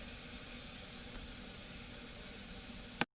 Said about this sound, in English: Now I'm going to let this fry